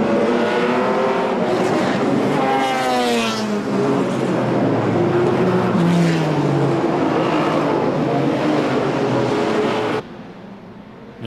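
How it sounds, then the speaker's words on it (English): Two 1959 Lotus Type 16 front-engined Grand Prix cars race side by side through the streets of Monaco at a historic Grand Prix, their engines roaring loud and close, pitch rising and falling through the gears, with no talk. "the two Lotuses are neck and neck, two Type 16s from 1959"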